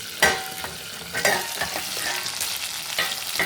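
Brinjal and potato pieces fry for a Sindhi-style baigan aloo, a steady sizzle broken by repeated scraping strokes of a spatula as they are turned back and forth, with no voices.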